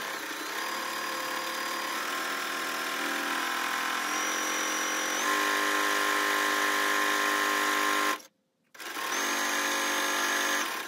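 A sewing machine stitches down a fabric strap after a pivot, a steady mechanical whir running continuously with one short pause near the end before it starts again.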